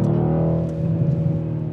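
A Mercedes C63 AMG Coupé engine rumbles and revs up close, a deep, loud, continuous exhaust burble that swells slightly partway through.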